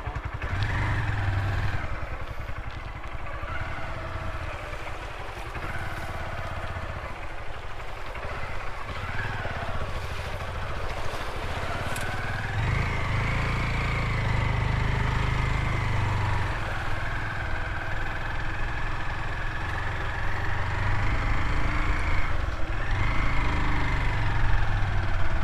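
A motorcycle engine runs for a long stretch, rising and falling in pitch as it idles and revs, close and moderately loud, with no voices.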